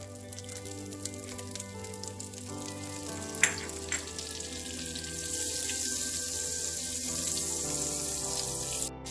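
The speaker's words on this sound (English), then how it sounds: "To the same pan, I'm going to add the butter." Butter melts and sizzles in a hot pan just used for cooking shrimp, a steady bubbling hiss that grows fuller and louder partway through and carries on alone.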